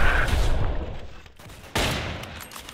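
Machine gun fire in a Roblox World War II game, a dense rattling burst that drops briefly and then resumes loud and close.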